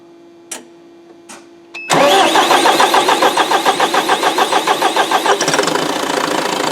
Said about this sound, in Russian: Ладно, заводим. После замены, как он заведется у нас.